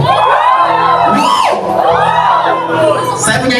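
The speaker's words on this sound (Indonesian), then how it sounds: "Saya mau dengar teriakannya dulu." A church congregation at a Christmas celebration shouting, whooping and cheering loudly together, a dense sustained crowd roar with high yells rising above it.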